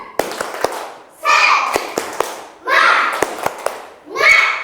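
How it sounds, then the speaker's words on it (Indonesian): Schoolchildren repeat a patterned clapping chant in class, crisp sets of two and three claps separated by loud unison shouts from the group, near and energetic. "Iya, sekali lagi tepuk semangat"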